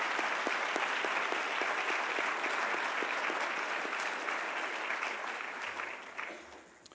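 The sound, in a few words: audience applauding 2019 graduates at commencement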